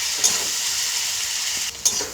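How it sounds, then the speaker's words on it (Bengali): Small chuna fish fry in a pan for a spicy chorchori, giving a steady bright sizzle with two quick scraping stirs, one early and one near the end. "আর একটু নাড়াচাড়া করে নেব আর একটু বেশ ভালো করে ভাজা ভাজা হবে"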